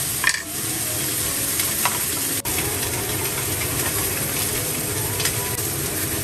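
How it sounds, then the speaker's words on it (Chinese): Turned golden threadfin bream frying in a home pan, a loud steady crackling sizzle close by, with a sharp utensil tap partway through and no talking. "翻过来继续煎。"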